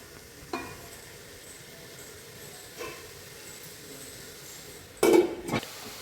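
Salted vegetables sauté in a pan for a tamarind curry. A low, quiet sizzle runs throughout, broken by a few sharp stirring clinks and scrapes, the loudest near the end.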